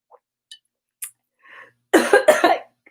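A few small clicks and a faint breath lead into a sudden loud double cough, harsh and close.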